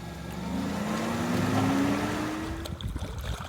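A Hayward Pro Series pool sand filter pump is switched back on, a steady motor hum with a rising whine that swells for a few seconds, then gives way to gurgling, sputtering water at close range.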